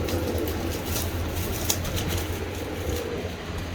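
Pigeons coo in low, steady murmurs at close range while wings flap in brief bursts, with a constant busy hum of many birds around.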